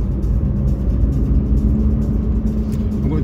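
A BMW M54 engine pulls hard under acceleration, a steady loud dense rumble with rising revs and brief dips at the gear changes, heard close from inside the car.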